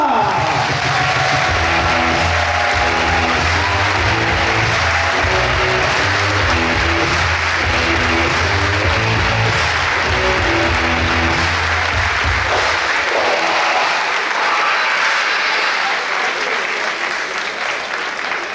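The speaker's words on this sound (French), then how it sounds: "un tonnerre d'applaudissements pour Omar Hassan" A crowd applauds an athlete being introduced at the Open de Lille, loud, continuous clapping over a pulsing music bed that drops out near the end, leaving the applause alone.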